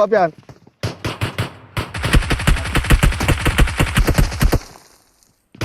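Video game gunfire with a shotgun involved: dense, rapid bursts of loud, close shots crackle for several seconds, then fade away. Voices briefly come through at the start.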